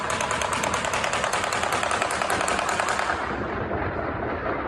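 Rapid bursts of real gunfire cracking outside in a residential neighborhood a couple of houses away, a dense continuous volley that cuts off near the end, with no voices.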